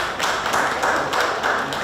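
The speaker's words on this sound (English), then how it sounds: "give them a round of applause" An audience at a carnival pageant sashing ceremony claps for the planning team, a loud, close burst of many hands beating in a fast, fairly even rhythm.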